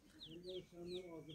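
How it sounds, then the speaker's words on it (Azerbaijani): A broody Kurt hen that has just hatched her chicks clucks softly in short, low repeated calls, while higher thin peeping from the chicks cuts in several times, close and quiet. "Ve sezonun ilk kürt yatan toyuğu öz balalarını çıxartdı."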